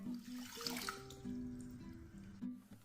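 Water is poured into a pot on the stove to start choux pastry for Neapolitan fried zeppole di San Giuseppe, a faint, short splashing trickle heard quietly amid kitchen background.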